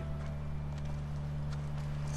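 A horse clip-clops in the video game The Last of Us, its soft, steady hoofbeats running under a droning background hum at low volume.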